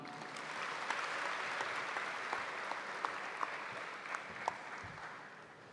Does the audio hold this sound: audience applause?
yes